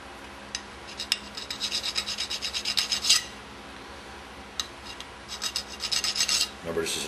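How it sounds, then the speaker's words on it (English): A metal file rasps over an aluminum nut to remove burrs during a Meyer E 47 rebuild, in two close bursts of quick back-and-forth strokes separated by a pause, with no one speaking. "so just going to file here"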